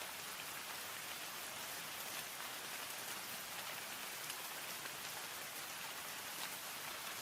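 Steady rain falls and patters on surfaces, a dense, even hiss that holds unbroken for the whole stretch with no voices.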